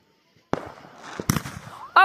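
Fourth of July fireworks burst in sharp pops and crackles, a few loud bangs spaced over a couple of seconds with crackling tails, heard outdoors from a moderate distance.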